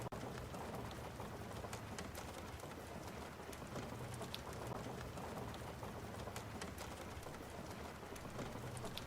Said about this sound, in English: I cut the rain sound in half, so should sound better.